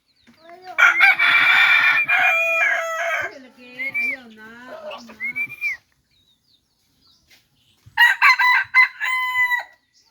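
A rooster crows loudly and nearby, one long crow followed by a pause and the start of a second crow, against a quiet background.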